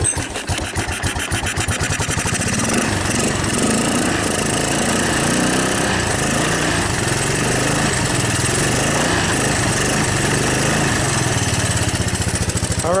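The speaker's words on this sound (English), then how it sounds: "The engine sounds fine." A Honda ATC200ES three-wheeler engine idles steadily just after a cold start, a continuous, close, rapid mechanical putter that holds an even level throughout with no voices over it.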